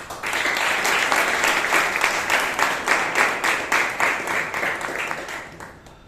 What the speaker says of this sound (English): Let's give Shelma a good round of applause